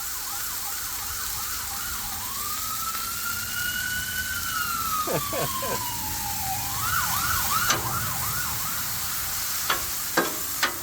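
An emergency vehicle siren passes outside, switching from a rapid yelp to one long rising-and-falling wail and back to yelping, over a faint steady sizzle from a Blackstone griddle nearby.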